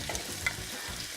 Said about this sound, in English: So we'll let the onion fry for like 5 minutes